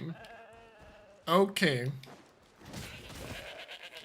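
A goat in the video game Aether Gazer lets out two loud, wavering bleats in quick succession, with a short spoken word just before them and game sounds around them.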